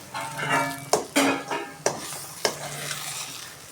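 Pulicha keerai (sorrel greens) being stirred and sautéed over low flame for a village-style thokku, with a soft steady sizzle and a few sharp scraping and clacking strokes of the spoon against the pan.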